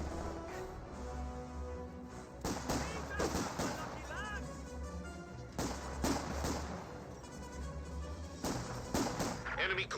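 An MG42 machine gun in Company of Heroes 2 rips out three separate bursts of rapid fire, with battlefield clatter and someone talking between them.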